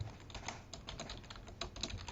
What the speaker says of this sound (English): Just type in your desired password and re-enter that.